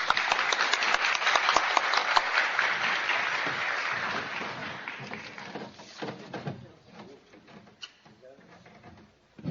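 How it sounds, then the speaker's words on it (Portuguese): Audience applause for a visiting professor at a university career talk at ECar/USP, a dense burst of clapping that fades over several seconds into scattered claps and room noise. "Saudemos a professora Tânia com uma salva de palmas."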